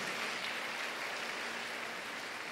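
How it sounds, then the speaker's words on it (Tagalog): A church congregation at a Mother's Day service claps softly and steadily, the applause faint and distant throughout. "Palakpak muli para sa ating pong mga mother."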